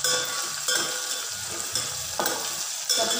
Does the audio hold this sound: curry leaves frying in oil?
yes